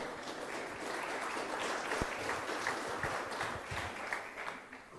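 Audience applauding at a French panel discussion on onshore wind energy: a sustained wash of clapping from a seated crowd, moderately distant and even, fading slightly at the end.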